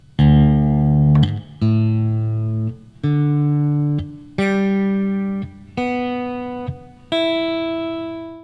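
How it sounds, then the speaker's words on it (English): Six strings of a Fender Jazzmaster electric guitar with a locking tremolo plucked one at a time from low to high for tuning, each note ringing out and decaying before the next, clear and close. "Now let's go string by string and check the tuning."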